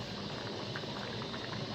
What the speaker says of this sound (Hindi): एक दो उबाल आ जाए